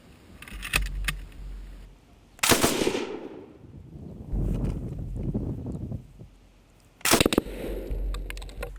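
A Lewis gun, a heavy 28-pound machine gun, fires in sharp loud bursts separated by pauses, each burst with a crisp crack and a ringing decay.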